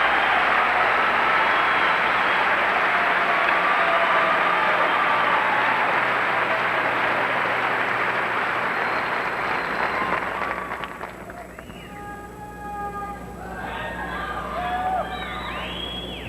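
A large arena crowd at the Calgary 1988 Winter Olympics cheers and applauds for the United States bronze-medal pairs skaters in a loud, steady roar that slowly fades, while a whistle-like tone rises near the end.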